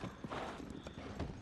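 A horse's hooves clip-clop in the video game Tears of the Kingdom, a quick run of loud, close thuds with no talk over them.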